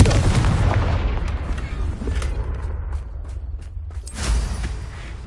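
A Confringo explosive spell in Hogwarts Legacy bursts loudly at the start, followed by a rumbling, crackling tail and a second heavy blast near the end, with no talking.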